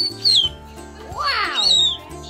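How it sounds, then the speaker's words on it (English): An old cockatoo lets out a shrill, high-pitched scream that sweeps up and down, following a brief sharp whistle, close and loud in a quiet home. "He does this high-pitched scream that I swear feels like it's gonna pop eardrums."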